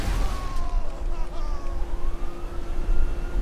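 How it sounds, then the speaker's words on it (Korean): An ambulance siren wails in the video game GTA5, its rising and falling tone sounding steadily over loud game noise and rumble. "구급차가 왔잖아"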